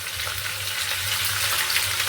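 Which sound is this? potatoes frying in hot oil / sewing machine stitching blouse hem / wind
potatoes frying in hot oil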